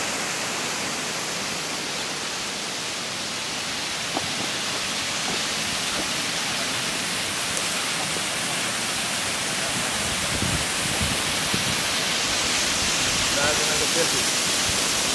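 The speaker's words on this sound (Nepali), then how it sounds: "झर्ना रहेछ नि त यहाँ" A waterfall near a village in the Dolakha hills roars in a dense, steady broadband rush that fills the whole stretch, with people faintly talking beneath it.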